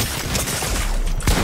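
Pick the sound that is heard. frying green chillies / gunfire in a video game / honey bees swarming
gunfire in a video game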